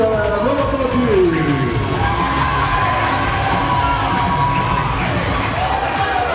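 A wrestling event crowd in Campinas applauds and cheers steadily for the whole stretch, with dense clapping, shouts and whoops that stay loud and close.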